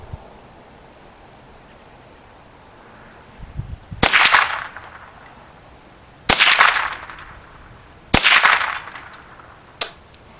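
Henry AR-7 survival rifle firing outdoors: four sharp, loud single shots spaced roughly two seconds apart, each with a short ringing tail, with quiet gaps between them.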